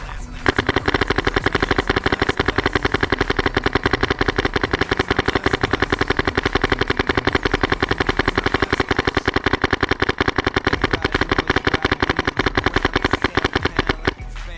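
A Planet Eclipse GSL paintball marker fires a long, fast, evenly spaced string of sharp shots, loud and close, with no voices.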